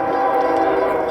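A train horn blares in a steady, loud, sustained tone with rail rumble beneath it, close by along a creek near the Red Deer River.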